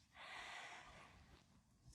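Deep breath drawn in through the nose during a gentle yoga class, a single soft, airy inhale lasting about a second, close and quiet with no talking.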